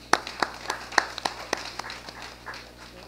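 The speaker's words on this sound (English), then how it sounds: "So let's applaud him, please." Scattered applause from a small audience at a plant distribution season opening, a handful of sharp claps spaced out and fading over a few seconds.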